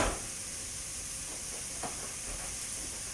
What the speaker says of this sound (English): hopefully you guys can hear the sizzle of the beef